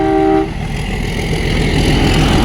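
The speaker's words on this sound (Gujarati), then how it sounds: "ગીરના વિસ્તારની આ ટ્રેન છે." A train in the Gir area of Gujarat rumbles loudly and steadily nearby during rain, opening with the tail of a horn blast before the continuous roar of wheels and cars.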